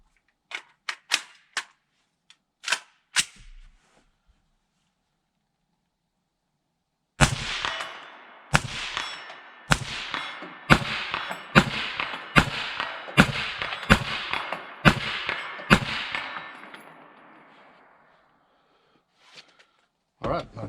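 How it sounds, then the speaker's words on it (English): Suppressed PSA JAKL 5.56mm rifle shots fired at 100 yards: a few sharp cracks, a pause, then a rapid string of about a dozen loud, evenly spaced shots with short decays, and a final shot at the end. "So let's take some shots at 100 and see how she does."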